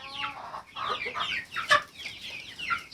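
A rooster clucks in a series of short, scratchy calls, close by, with one sharper squawk partway through.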